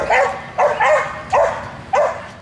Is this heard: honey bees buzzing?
no